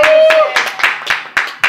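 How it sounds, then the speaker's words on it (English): A church congregation claps in a short run of sharp, distinct beats at a lively steady rhythm, close and loud, with a voice briefly heard underneath at the start. "Clap your hands and say amen."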